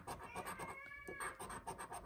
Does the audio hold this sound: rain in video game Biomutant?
no